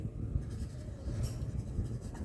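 A pen scratching steadily across paper while working a maths exercise, close and continuous with short strokes and no talk.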